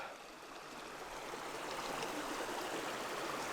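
A creek flows steadily beside a rough trail, its soft, continuous rushing and trickling quiet but unbroken, gently swelling in the second half with no voices.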